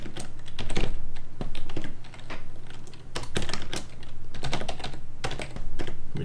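Hard, heavy-handed typing on a computer keyboard, a dense run of loud clattering keystrokes in bursts and short pauses, close up, with a steady low hum underneath and no talk.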